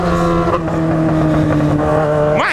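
A motorcycle engine drones steadily at high revs, close and loud, its pitch holding level and then sweeping sharply upward in a quick rev near the end.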